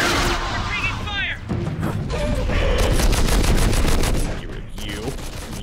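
Loud, rapid bursts of gunfire and blasts fill the Too Human video game action, dense automatic fire pounding nearly continuously with brief gaps, layered over other game effects.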